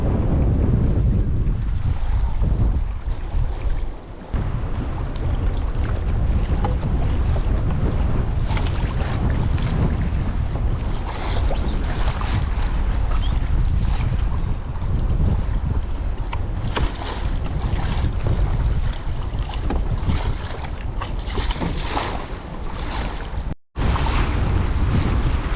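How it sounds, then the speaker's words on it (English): Strong wind gusts across Lake Perris while a small boat is paddled, with loud continuous wind buffeting the microphone, choppy water and waves slapping close by for the whole stretch, no talking. "It's a little too windy for my liking right now."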